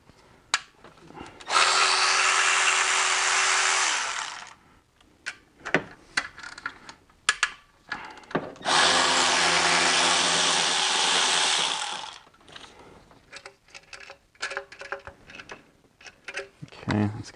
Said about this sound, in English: So now we can remove the two bolts for the tensioners, or the lower chain guide here.